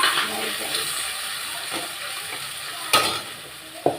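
Onions and vegetables being sautéed in a pan for fried rice, with a steady sizzle and a few sharp scrapes of a spatula stirring through it.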